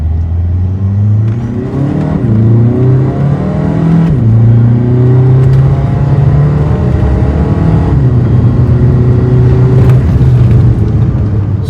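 A tuned custom-turbo 2.0L diesel Skoda Laura revs hard through rising harmonics, dropping briefly as gears change, then climbing again; a loud, continuous exhaust note with no talking.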